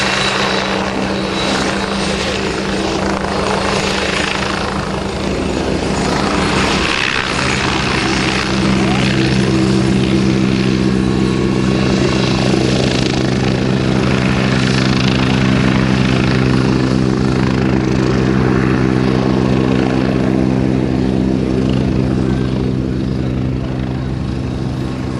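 A Westland Wasp helicopter in a display at Abingdon makes a loud, sustained turbine whine with rhythmic rotor thumping, close by and steady for the whole stretch, with a brief dip partway through.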